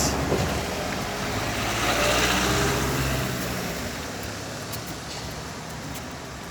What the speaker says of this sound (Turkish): Evet yola çıkmıyoruz. Çünkü arabalar geliyor.